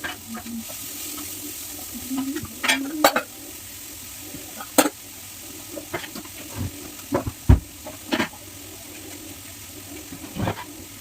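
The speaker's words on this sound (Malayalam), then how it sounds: "അതിനകത്ത് വെളുത്തുള്ളി ഇഞ്ചിയും കൂടെ ഇട്ടിട്ടേ പിന്നെ നമ്മുടെ സബോളയും ഇട്ടിട്ട് നന്നായിട്ട് വഴറ്റുക" Onions sautéing in a pan with garlic and ginger, a continuous sizzle under scattered sharp clinks and scrapes of a spoon stirring against the pan.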